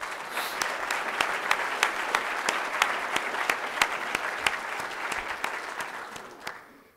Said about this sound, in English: How about a round of applause for the football team?